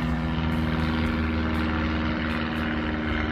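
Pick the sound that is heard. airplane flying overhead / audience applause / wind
airplane flying overhead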